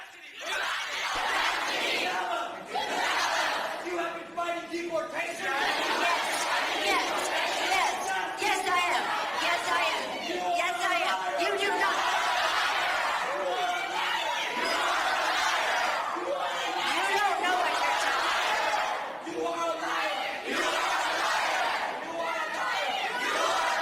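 A San Francisco crowd shouts down a politician at a public event, a dense, continuous roar of many voices with bursts of yelling and chanting throughout.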